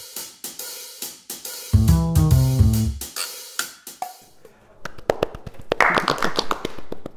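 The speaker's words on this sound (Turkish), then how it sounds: "Az kişiyiz ama öz bir alkışla." A handful of people clap in a small room, with uneven, close claps mixed with taps and a brief musical jingle, ending in scattered final claps.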